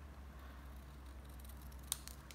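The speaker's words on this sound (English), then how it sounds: "I might want to trim this a little bit too, actually, real quick" Scissors snip a small piece of paper card for a handmade card, giving one crisp cut near the end of a quiet, close moment.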